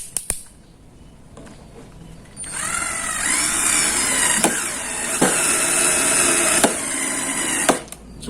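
A Ryu RCD 12V cordless drill driving a bolt with a stock screwdriver bit that keeps slipping, a close motor whine rising after a soft start and holding steady with sharp clicks and jolts as the bit slips.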